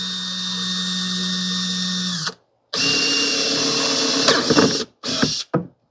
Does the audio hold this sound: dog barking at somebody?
no